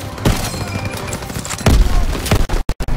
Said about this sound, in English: Everyone, open fire!